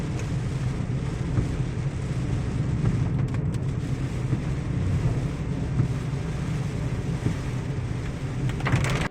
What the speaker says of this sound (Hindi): एक बार फिर से जो है बारिश स्टार्ट हो गई है, और काफ़ी तेज़ी से बारिश हो रही है।